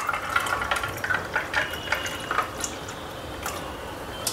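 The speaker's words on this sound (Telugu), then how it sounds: "ఇప్పుడు పల్చగా కలుపుకున్న మజ్జిగ" Thin, diluted buttermilk poured over three ice cubes, a soft close trickle with light drips and splashes that thins out and fades partway through.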